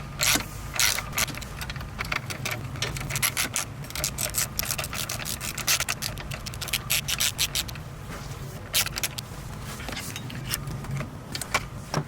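A ratchet loosens the engine belts on a Subaru STI, giving close, rapid clicking strokes in uneven bursts throughout, with faint metallic rubbing of the belt gear between them.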